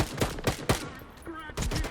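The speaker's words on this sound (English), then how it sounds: "let me just crouch down and just start opening fire." Repeated gunfire from the player's weapon in the video game Stalker 2, several sharp bursts in an irregular rhythm, loud and close, with a brief quieter gap before a final dense volley.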